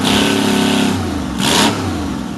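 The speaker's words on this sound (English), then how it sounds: "The sound is like the rumble of thunderstorm, deep and powerful." A Detroit Diesel Series 71 two-stroke diesel engine runs close by with a deep, steady low rumble, briefly surging louder once mid-way before settling back.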